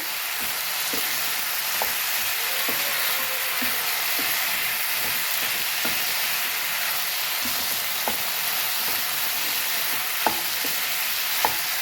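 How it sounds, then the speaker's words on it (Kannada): Ghee pepper chicken with mint and coriander is stirred in a pan over a constant sizzling hiss, with scattered light clicks and scrapes of the utensil against the pan. "ಸ್ವಲ್ಪ ಕೊತ್ತಂಬರಿ ಸೊಪ್ಪು ಇದನ್ನು ಈಗ ನೀಟಾಗಿ ಮಿಕ್ಸ್ ಮಾಡ್ತೀನಿ"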